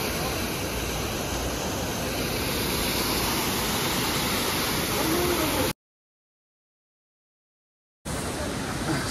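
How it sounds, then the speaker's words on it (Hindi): Waterfall where people bathe along a mountain road from Kishtwar to Paddar in Jammu and Kashmir: a loud, steady broadband roar of falling water filling the clip, cut by a brief gap of silence before resuming. "बाकी झरना देख सकते हो कितना खूबसूरत है"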